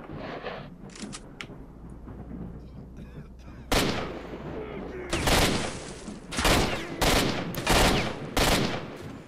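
Gunfire from a weapon in S.T.A.L.K.E.R.: Shadow of Chernobyl, loud sharp shots coming in uneven bursts across the second half, with quieter scattered shots and background noise earlier.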